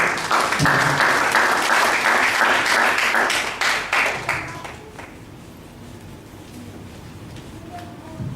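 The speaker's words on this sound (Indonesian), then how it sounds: "Tepuk tangan dong buat Tuhan Yesus." A church congregation claps loudly and densely for about four seconds. The applause then fades quickly into quiet room noise.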